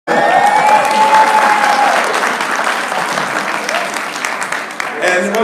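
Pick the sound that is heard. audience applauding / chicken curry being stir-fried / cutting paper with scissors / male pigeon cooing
audience applauding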